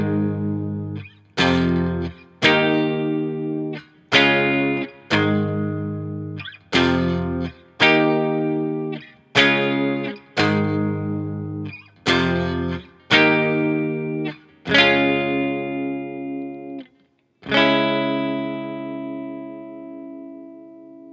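An electric guitar with distortion and effects strums a song's chord progression, about a dozen ringing chords struck one at a time in a steady rhythm, the last left to sustain and fade.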